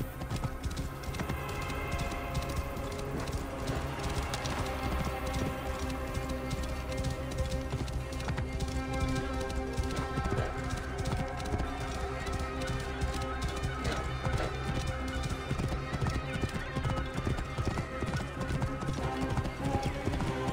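A horse in Assassin's Creed Origins clip-clops along at a steady rhythmic gait, hoofbeats loud and close and continuing throughout, with an occasional whinny rising above the footfalls and game music beneath.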